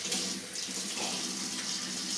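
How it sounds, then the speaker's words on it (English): Kitchen tap water runs in a steady, hissing stream while scallions are rinsed beneath it, a continuous close splashing rush with no voices. "lightly rinse those two and shake off the excess water"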